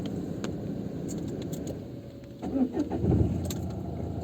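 A car engine is started during a driving lesson, cranking and catching with a rough rise in rumble after keys jingle over a steady cabin hum.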